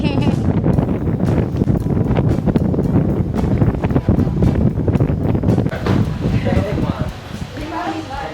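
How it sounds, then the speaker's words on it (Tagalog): Strong wind blowing by the sea on a boat trip in Montenegro, a loud continuous roar buffeting the microphone that eases slightly near the end, with a voice speaking over it. "Ang lakas ng hangin"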